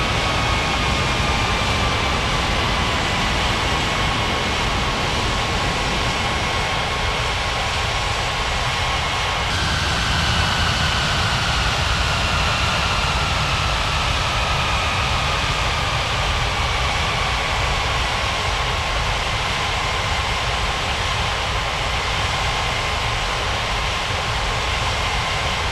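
Jet airliner engines spool and roar during a takeoff roll in an air traffic control game, a steady broadband rumble with slowly falling whine tones, loud and continuous with no talk.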